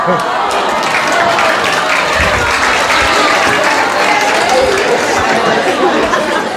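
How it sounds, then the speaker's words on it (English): At a staff wellness morning event, an audience claps in a loud, continuous burst lasting several seconds, mixed with crowd chatter and murmuring voices throughout. "give him a round of applause"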